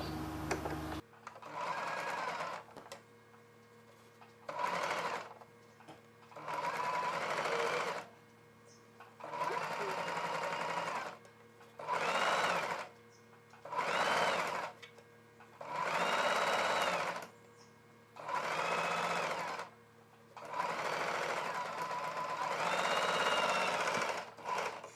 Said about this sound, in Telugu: ఈ కుట్టుకు పై వైపున ఒక కుట్టు వేసేసుకోవాలి